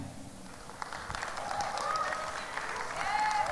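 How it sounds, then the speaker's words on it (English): Audience applause in a room at a supermodel pageant grand finale, a steady broadband clatter of many hands throughout, with faint tonal sweeps and a voice appearing briefly over it. "we can definitely give better applause, please, everybody in the room"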